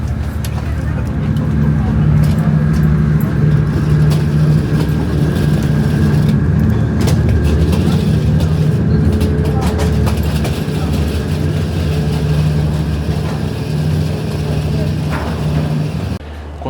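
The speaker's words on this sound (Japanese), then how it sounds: "このまま地下鉄2号線の駅までまずバスで移動します。" A shuttle bus in Shenzhen carrying passengers toward a subway Line 2 station, its low engine rumble and road noise droning steadily and loudly throughout, with talking heard over it.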